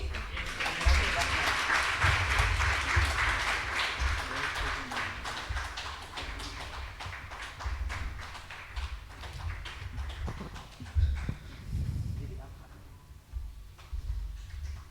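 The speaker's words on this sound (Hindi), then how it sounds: "सब लोग ताली बजाएंगे।" An audience at a live spiritual healing session claps steadily for most of the stretch, dense and fairly loud, thinning out toward the end.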